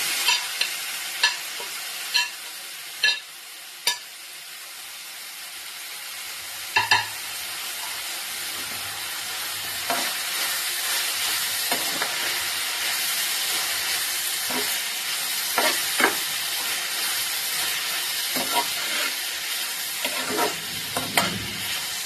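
Crushed garlic and cumin frying in oil in a pan before tomatoes go in, a continuous soft sizzle punctuated by sharp spoon taps and scrapes against the pan, close with no voices.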